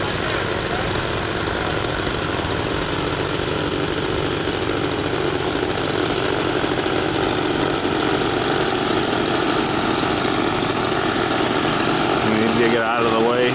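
Small engines of a 32 ft nylon outdoor RC blimp drone steadily outdoors, a continuous buzzing hum mixed with wind rumble, fairly loud and close, with a faint rising whine near the end.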